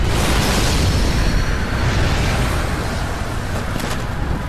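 A big explosion in the video game Kingdom Hearts Birth By Sleep Final Mix, a loud, dense roar of blast and rumble that fills the whole stretch and fades slightly toward the end.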